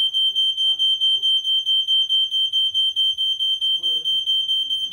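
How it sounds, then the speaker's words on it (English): A smoke alarm emits a piercing, rapid, regular beeping that runs steadily throughout, with brief bursts of speech heard underneath it. "Or fire alarm,"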